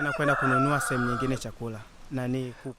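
Chickens cluck and a rooster crows in a rural setting in Tanzania, loud and close, as a run of drawn-out harmonic calls with short pauses and possible voices mixed in.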